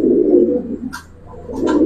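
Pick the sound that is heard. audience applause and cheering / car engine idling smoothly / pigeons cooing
pigeons cooing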